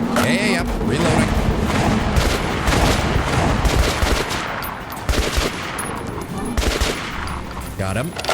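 Gunfire in the Metro shooter game, a dense, loud, sustained barrage of shots with booming impacts, with a voice talking over parts of it.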